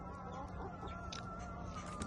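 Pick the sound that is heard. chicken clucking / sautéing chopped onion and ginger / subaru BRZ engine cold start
chicken clucking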